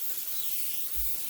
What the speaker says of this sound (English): Sorry, I'm just spraying around.